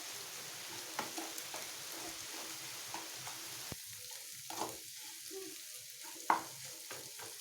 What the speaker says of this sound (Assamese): এনেদৰে মই ভাঙি ভাঙি সলাই সলাই ইয়াক ভাজি লৈছোঁ।